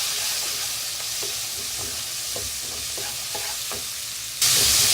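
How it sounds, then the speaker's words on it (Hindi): Ground spices, chili powder among them, roast in a pan for a Maggi masala noodle dish, giving a steady close sizzle with light periodic stirring scrapes, then a sudden louder hissing surge at the end, without speech. "अब हम इनको भूनेंगे 1 मिनट।"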